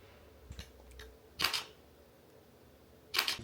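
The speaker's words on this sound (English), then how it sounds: "the mechanical shutter is way louder than the leaf shutter on the Hasselblad" Two crisp mechanical shutter clicks from a Leica SL3 camera, spaced well apart, sharp and fairly close in an otherwise quiet room.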